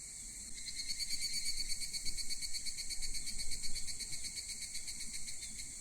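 Cicadas drone at night at a shrine in an Exit 8-style anomaly video game, a steady high pulsing buzz that holds evenly throughout at a moderate, ambient level.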